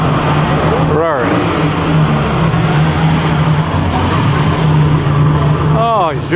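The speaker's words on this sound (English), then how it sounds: "Ferrari." A Ferrari race car at the 2007 Mille Miglia sweeps past quickly with a Doppler pitch drop, and a second quick pass follows near the end, loud over steady engine and crowd noise, with voices talking throughout.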